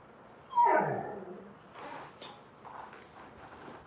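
A puppy gives a sharp rising whimper up close, then a few softer whines and yips trail off in a quiet room.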